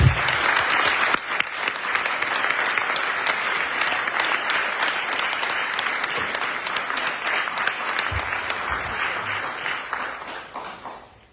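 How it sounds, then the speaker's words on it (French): Sustained applause fills a municipal council installation meeting in Pomponne, a dense, steady clapping from the assembled crowd that continues for several seconds before tapering off at the end. "Je vous propose qu'on les applaudisse"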